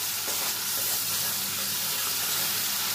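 Bowl-rinsing water poured into hot oil with tempering spices for an ilish fish curry, giving a steady, loud, hissing sizzle that holds evenly throughout without talk.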